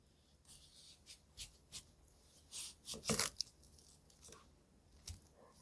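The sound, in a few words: sharpened knife thinly slicing an onion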